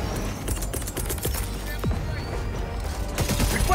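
A sentry gun in the video game Helldivers 2 fires in rapid bursts of sharp cracks, steady and fairly close, mixed with other gunfire and battlefield clatter; no talking.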